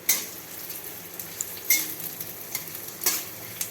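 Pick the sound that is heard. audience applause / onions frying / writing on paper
onions frying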